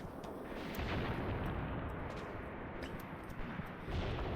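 Machine gun fire from half-tracks in the Graviteam Tactics video game, heard as a dense, steady rumble of distant bursts and thuds that runs throughout at low volume.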